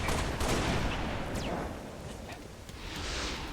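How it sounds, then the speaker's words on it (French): Rapid bursts of gunfire and explosions crackle continuously in the Halo Reach video game, dense and fairly loud with no talking. "L'ennemi me tire dessus!"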